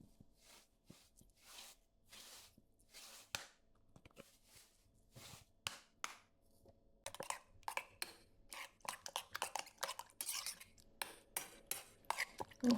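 A spoon stirring and mixing food seasoned with cumin powder and salt in a pan, heard close as a series of scraping and tapping strokes that grow quicker and denser toward the end.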